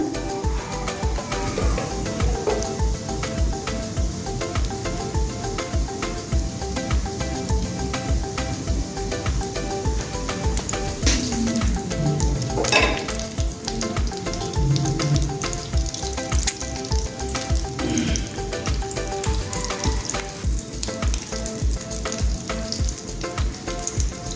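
Egg devils (dimer devil) fry in oil on low heat with a steady, close crackle and sizzle lasting throughout, with a few faint clinks and stirring noises and no voices.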